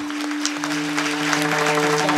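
An audience claps together at a Marathi kirtan, a dense, steady burst of applause that carries loudly and evenly for the whole couple of seconds under a sustained musical drone.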